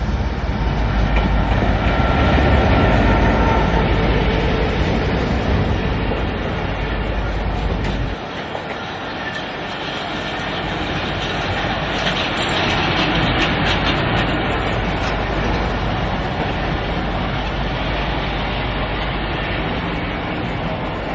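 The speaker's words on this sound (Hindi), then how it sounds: "इसकी लीड पर था GMU 154819 लोकोमोटिव, जो कि इनॉग्रल रन में भी इस्तेमाल हुआ था।" Karachi Circular Railway train led by GMU diesel locomotive 154819, rumbling loudly past close by with steady rail clatter and wheel noise that dips briefly then continues.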